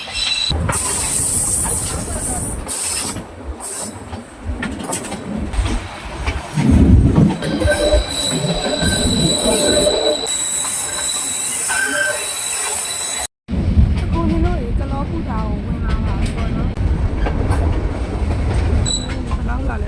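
A Shan State train runs along a century-old railway line in Myanmar near Kalaw, with loud continuous rumbling, wheel squeals and clattering carriages that stay close throughout.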